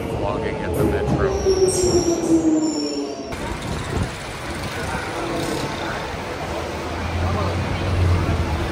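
A metro train runs loudly through the station, its wheels squealing in a high, sliding tone before giving way to a dense rumbling roar of cars on the rails that continues steadily.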